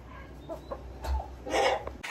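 Broody hen sitting on fertile duck eggs, clucking and grumbling close by in several short, irregular bursts.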